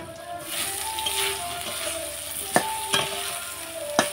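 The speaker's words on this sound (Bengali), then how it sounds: "এদিকে কলাটা ভাজা হচ্ছে" Banana slices fry in a pan with a continuous close sizzle, broken by a few sharp utensil clicks and rattles toward the end.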